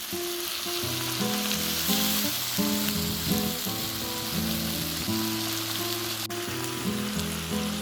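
Ginger-garlic paste fries in hot mustard oil, giving a steady spitting sizzle that persists throughout under prominent background music.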